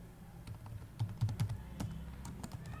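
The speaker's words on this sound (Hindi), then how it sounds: "अब मैं फंक्शन का नाम लिखता हूँ" Quick bursts of typing on a computer keyboard, a function name being entered in code: a short run of light, close key clicks in an uneven rhythm over a quiet room.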